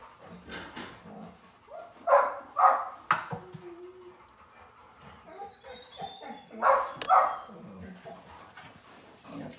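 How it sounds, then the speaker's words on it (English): A newly acquired puppy whimpers and yips in two bursts of sharp, close barks, with quieter whining and household rustle in between. "Why, oh, Sharon, this is my new puppy."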